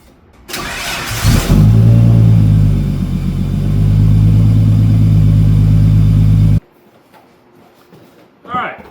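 A car engine cranks and catches with a loud rev, then settles into a steady rumbling idle for several seconds before cutting off abruptly; a brief voice follows in the quiet.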